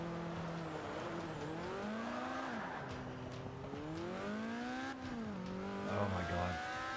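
Car engine in the Forza racing video game, continuous and moderately loud, with pitch rising and falling through gear shifts and revs, plus brief tire squeal near the end.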